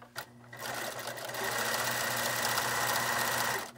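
A sewing machine stitches a fabric face mask about a quarter inch from the edge, starting with a short burst, then running in a steady, fast rattling hum up close until it stops.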